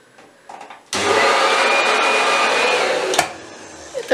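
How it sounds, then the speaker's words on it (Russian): A hair dryer in France switches on with a sudden whoosh and blows steadily at close range for a couple of seconds before cutting off with a click, after faint handling noises. "Это просто фен."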